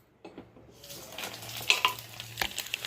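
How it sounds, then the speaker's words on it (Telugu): Mustard seeds, cumin, dried chillies and asafoetida hit hot oil for a sambar tempering, building into a close, crackling sizzle with sharp pops and spits that grows louder after a quiet start. "ఇప్పుడు నేను పోపు వేసేస్తానండి"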